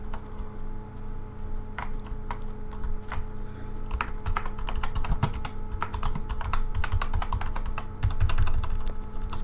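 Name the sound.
typing on a computer keyboard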